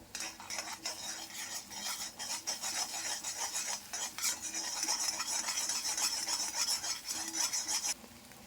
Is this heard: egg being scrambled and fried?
yes